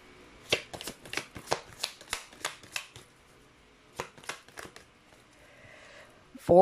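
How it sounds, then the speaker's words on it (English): Tarot cards are shuffled briskly by hand, a rapid series of riffling bursts, a pause, then a few more shuffles, close and clear with no speech over them. "let's try to pull up another set of cards for you guys"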